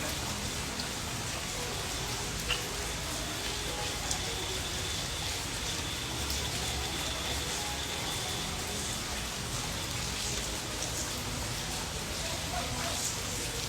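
Steady, even rain patters continuously at moderate distance, a constant wash of droplets with no pauses and no other clear sounds.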